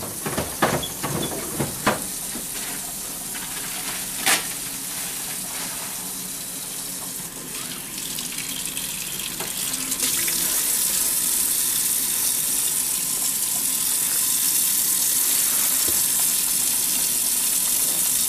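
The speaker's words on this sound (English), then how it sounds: "I'm gonna go wash my hands and glove up." Water from a sink tap gushes steadily while hands are washed before a phlebotomy draw, a few light knocks early on, then the flow grows fuller and louder in the second half, with no talk.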